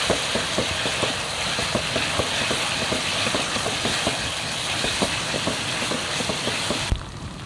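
Onions frying in a pan with ginger-garlic paste for fish pulusu, a steady close sizzle with light clicks and scrapes of stirring running throughout, ending in a sharper knock, no talk.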